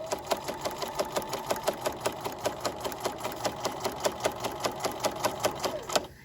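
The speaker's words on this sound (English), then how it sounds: "So I'm going to continue to sew straight across at a 1/4 inch seam allowance, removing my clips as I come to them." A sewing machine stitches straight across a drawstring bag at a quarter-inch seam allowance, its needle ticking in a fast, even rhythm, close and clear, stopping abruptly at the end.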